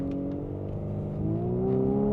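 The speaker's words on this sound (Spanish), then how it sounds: "con los modos cambia el sonido del motor, pero es artificial" The engine of a 2026 Volkswagen Atlas SUV accelerates as a close, steady droning hum that climbs gradually in pitch, with no talk over it.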